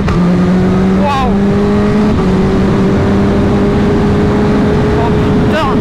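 A Kawasaki H2 motorcycle runs hard along an open road, its loud, steady engine drone rising slightly under heavy wind rush, heard close from the rider's position.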